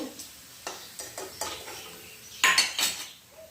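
Fried bombil fish lifted out of a pan: a run of sharp metal scrapes and clinks of a utensil against the pan, with a louder cluster of clatter near the end and faint sizzling beneath.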